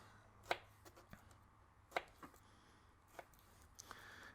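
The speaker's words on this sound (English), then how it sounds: "So I just cut them in nice chunks." A knife cuts through a deer hind quarter into chunks, giving a few sharp, quiet, separate chopping knocks against a board, spaced irregularly in a hushed room.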